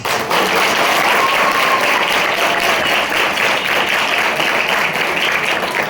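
Audience applause at a school Constitution Day quiz celebration, steady dense clapping from many hands sustained for several seconds at close, loud level.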